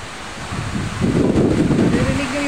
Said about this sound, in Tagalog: Naririnig nyo yung bawat ano yung bugso ng hangin ba?